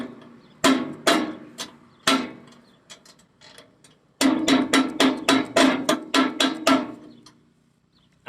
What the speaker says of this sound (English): On a farm, a wrench could be a hammer.